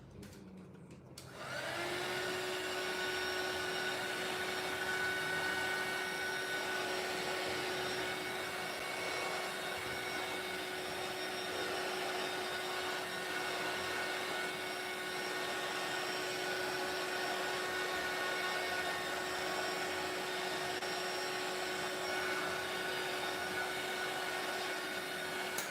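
Heat tool drying an ungessoed mixed media artist trading card, switching on after a brief quiet moment into a steady, close whirring blow with a constant whine that runs unbroken to the end.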